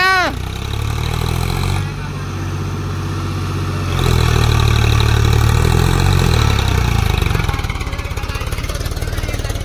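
A Mahindra tractor pulling a loaded trolley roars loudly at full throttle nearby, the engine note dipping briefly and then climbing to a sustained, straining high-rev drone.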